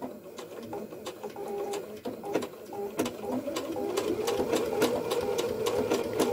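A domestic sewing machine stitching an appliqué stitch on fabric, a steady mechanical whir with rapid, regular needle clicks running continuously and getting slightly louder toward the end.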